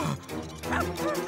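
Cartoon dog barking and yipping in quick bursts, loud and close, over a busy animated soundtrack with music.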